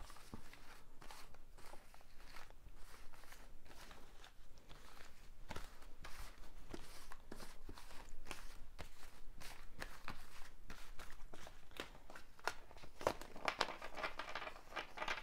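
Oracle cards being shuffled by hand, a steady run of soft riffling, rustling and flicking sounds, close and fairly quiet, with no talking over it.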